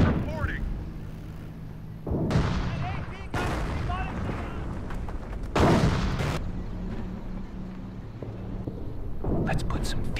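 Artillery barrage in the Company of Heroes strategy game, a series of heavy blasts and rumbling explosions at irregular intervals, some sharp and close, set against battlefield ambience and game unit voice lines.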